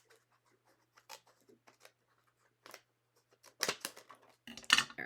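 Scissors snipping and trimming paper in a card-making craft session, scattered faint clicks early, then a few louder close cuts and rustling paper near the end.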